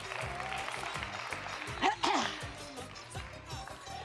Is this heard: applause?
yes